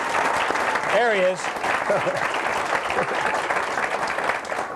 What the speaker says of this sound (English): We have a nice round of applause